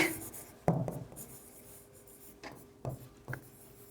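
Pen or marker handwriting during a finance lesson: a few short, scratchy strokes rise over quiet room tone, with brief pauses between bursts of writing.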